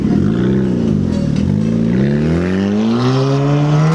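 A car engine revs loudly and close, its pitch sweeping up and down several times before climbing into a sustained higher-pitched whine, with no talking over it.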